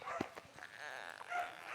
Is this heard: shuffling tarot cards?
no